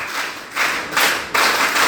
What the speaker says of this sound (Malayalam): ഒരു 1 2 1 2 3 ക്ലാപ്പ് താ